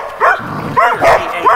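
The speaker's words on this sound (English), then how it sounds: "No barking at me." Several barks from dogs close by at a bushcraft camp, loud sharp bursts in quick succession with a short whimpering yip between them.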